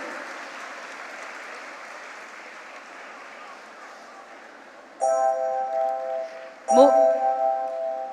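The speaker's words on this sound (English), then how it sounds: "Ladies and gentlemen, please keep those claps coming in for our winners from grade 7" Steady applause from an audience at a school honor roll ceremony for grade 7 winners, filling the room at an even level before two sharp bursts of louder clapping and bright ringing tones join in.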